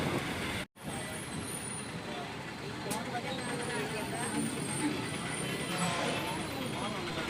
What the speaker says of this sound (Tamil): சரியான டிராஃபிக்குங்க. மதியான டைமில் இவ்வளோ டிராஃபிக்காங்க இந்த ஊரில்.